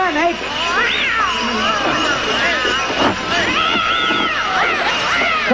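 A cat caterwauls with long, wavering, rising and falling cries over a noisy backdrop of babbling voices in a Christmas setting.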